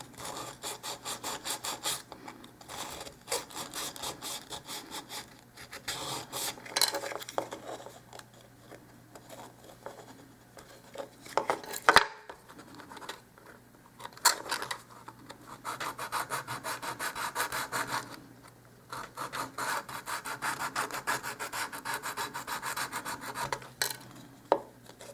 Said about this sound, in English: So I've got an emery board. Usually, by running the emery board over,